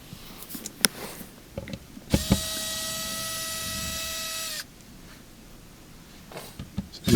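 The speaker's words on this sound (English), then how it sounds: "I'm going to be removing these screws that are holding the filter assembly in position" A powered screwdriver backs out screws holding the filter assembly of a Samsung dishwasher, giving one close whirring burst of about two seconds amid small clicks and handling knocks.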